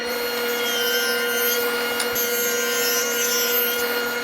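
A table saw with a dado blade cuts a groove along wooden rail stock, giving a steady, loud, continuous whine with grinding texture throughout, without a break.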